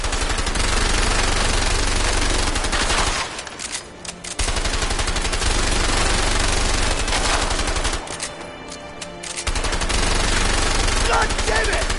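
Rapid bursts of automatic gunfire from the video game A Way Out, loud and continuous with two brief pauses, mixed with game sound.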